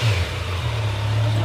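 A 2024 Kawasaki Z900 SE motorcycle engine, brand new and warmed up, giving a brief close-up rev: a sustained loud engine drone rising slightly in pitch, with no talk.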